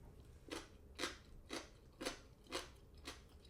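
Six crisp, evenly spaced crunching bites, close up, as someone chews a crisp celtuce stem in quiet surroundings.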